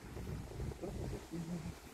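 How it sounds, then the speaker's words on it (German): Strong gusts from a gust front in Meschede, Germany, roar against the microphone as a steady low rumble that swells and eases in waves over two seconds, with no voices. "Nein, das ist nur eine Böenwalze"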